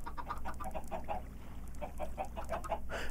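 Chickens clucking in the Minecraft video game near an automated chicken-cooking farm, a quick run of short repeated clucks over a steady low background hum, no speech.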